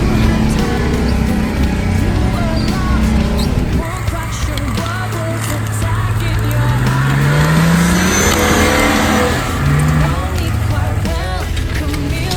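A rally car from Team Made in Austria at the Onetrophy 2019 climbs through steep, dense forest, its engine rising and falling in pitch amid rattling and rustling, loud and close, with a voice speaking over it.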